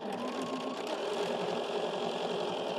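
A sewing machine with a 1/4 inch foot stitches along the side of a folding wallet, running in a steady, continuous mechanical whir with rapid needle rhythm, close and even throughout without talk.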